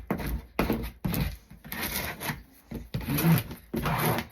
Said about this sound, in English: Making sure it's smoothed down on all the sides.